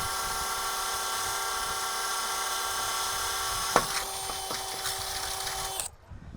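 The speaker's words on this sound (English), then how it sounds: "We'll drill that out." An electric drill bores a hinge hole in a metal gate, a steady high whine running for several seconds with a sharp bite partway through, then stopping abruptly near the end; close and fairly loud.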